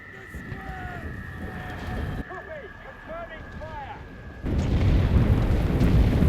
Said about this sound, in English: Artillerie sur leur gueule.